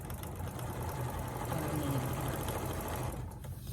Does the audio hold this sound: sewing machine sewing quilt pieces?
yes